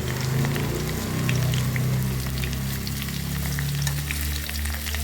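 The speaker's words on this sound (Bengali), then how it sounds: "হালকা ভাজবো। পেঁয়াজ আর রসুন এটা দিয়ে দিলাম এর মধ্যে।" Onion and garlic fry lightly in a pan with papaya and carrot for chicken stew, a steady close sizzle with soft crackles and a low hum, no talk.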